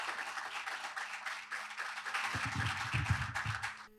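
Applause from a finance summit audience, moderate and fairly distant, with clapping swelling toward the middle and trailing off.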